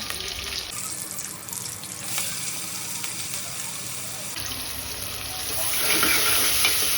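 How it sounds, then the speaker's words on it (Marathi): Curry leaves, green chillies and cumin seeds hit hot oil in a home kitchen pan, giving a bright, continuous sizzle and hiss that swells louder toward the end, with no talking over it. "तेल गरम झालेलं आहे. आता आपण टाकूया कढीपत्ता, मिरची, थोडीशी टेस्टला जिरं टाकूया"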